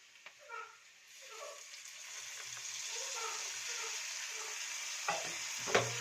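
Turmeric and tamarind masala frying in a pan, a steady soft sizzle with a spoon scraping and stirring through it, then a couple of sharper clinks near the end.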